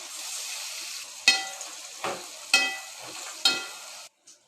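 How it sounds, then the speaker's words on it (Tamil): Stuffed brinjals sautéing in oil in a pan, a soft steady sizzle punctuated by four loud stirring scrapes and spits at regular intervals, close by, dying away at the end with no voices. "நம்ம ஸ்டஃப் பண்ணி வச்சுருக்க கத்திரிக்காயெல்லாம் அதில் போட்டு நல்லா வதக்கணும்"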